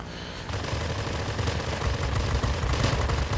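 Fighter plane guns in World of Warplanes fire in a sustained, dense rattling burst that kicks in after a brief lead-in and continues loudly to the end, with no talking.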